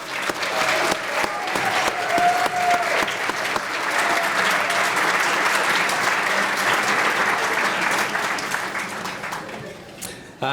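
A hall of fame education foundation event where a room of people gives honorees a sustained round of clapping, dense and loud from start to finish, fading slightly at the close.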